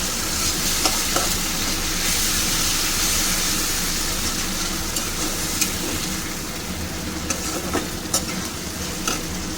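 Ginger, green chili and tomato paste sizzle and fry steadily in a pan with occasional stirring scrapes, loud and close, with no talking, while dhokar dalna is cooked.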